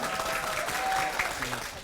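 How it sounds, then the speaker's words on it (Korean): Brief applause from an audience at a Justice Ministry event in Seongnam, a dense, even patter of many hands clapping at moderate distance, with a faint voice underneath. "박수를 한번 치고."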